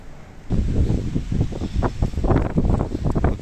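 Gusty wind buffets the microphone outdoors, a steady rumbling roar with rustling surges that rise and fall.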